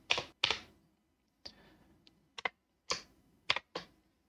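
Sparse keystrokes on a computer keyboard while entering HTML tags, about nine close, crisp clicks in small clusters separated by short pauses, quiet room with no talk.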